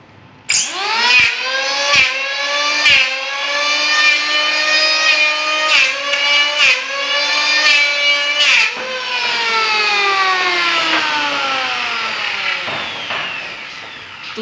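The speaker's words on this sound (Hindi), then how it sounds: "रंदा भी इस प्रकार मारना है कि यहां से मारेंगे सीधा अंदर तक पूरा बराबर" A wood planer works over a wooden window frame with a loud, continuous motor whine. The pitch sags and recovers with each pass, broken by short clunks, then trails off near the end.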